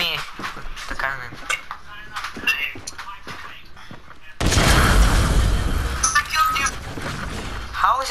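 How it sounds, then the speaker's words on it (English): Cannon blasts in a video game burst out loud and dense after a stretch of talk, a sustained roar of booming fire and crackle that trails off, with a voice speaking over the opening section. "hit me. The cannon."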